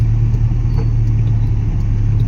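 A car creeps through bumper-to-bumper traffic in a town centre on a wet, slippery road. A steady, close low engine and road rumble drones on without a break, and no one speaks.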